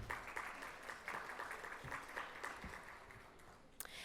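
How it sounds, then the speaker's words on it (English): A conference audience at a panel discussion in Dubai applauds with dense, steady clapping heard from a distance, faint and continuous. "Let's give her a round of applause."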